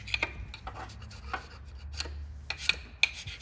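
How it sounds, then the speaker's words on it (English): Aluminum is sanded by hand with sandpaper and WD-40 during work on a Honda CR-V cooling system, producing soft repeated rubbing strokes with a few sharper scratchy taps over a low background hum. "Or you can use sandpaper and WD-40"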